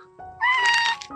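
One of five abandoned baby kittens on a mountainside lets out a single drawn-out meow, loud and close, with faint rustling before and after.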